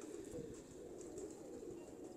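A pigeon of the Sandurii Palak breed coos softly and repeatedly, a faint low burbling call recurring in short rhythmic phrases against quiet background.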